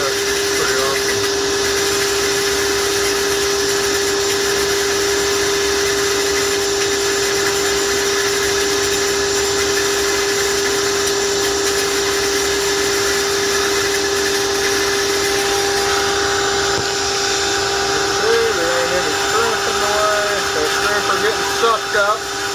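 Aquarium gravel vacuum sucking debris from a blue jelly shrimp tank, a steady loud motorized whir with a high tonal hum running throughout, gurgling slightly near the end, with a voice talking over it.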